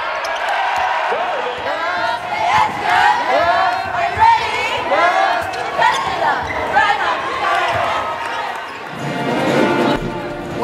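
A loud crowd cheers and yells at a boys' school basketball game in a Region V championship, a dense continuous roar with overlapping voices that swells again near the end.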